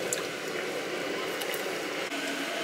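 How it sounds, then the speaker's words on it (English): Water boils inside a food trailer's deep fryer during cleaning, a steady close bubbling and gurgling hiss with small pops and splashes, no voices. "we got the water boiling now"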